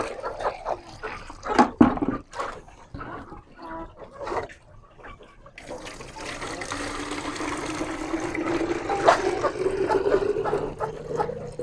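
Water is poured into a 3-litre plastic chick waterer for Australorp chicks at home. A few clunks and handling knocks come first, then a continuous splashing, gurgling pour fills the second half at steady volume.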